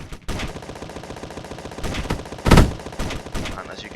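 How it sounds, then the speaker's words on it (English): Rapid autocannon and turret gunfire in the space combat game Space Engineers, a frigate battle with dense bursts of loud overlapping shots and one heavier blast near the middle. "Here we see Sokonen engaging with the CSD autocannon, and already the range 230 turrets are trying to shoot the frigate."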